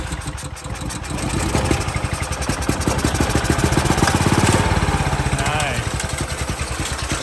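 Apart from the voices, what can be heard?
engine of boosted EZGO golf cart starting and running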